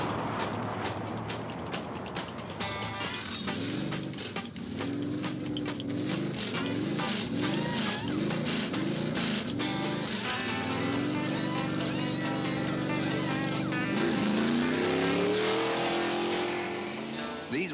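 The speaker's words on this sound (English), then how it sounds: "These race cars take quite a bit of handling." Roaring race car engines rev and rise in repeated climbing pitches during a NASCAR pit stop in 1986, loud and close, with a voice talking over the engine noise.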